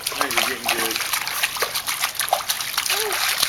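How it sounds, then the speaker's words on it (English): A small child kicks their feet and splashes in water, making continuous sloshing and splattering close by, while an adult talks encouragingly over the splashing. "Splash with your feet."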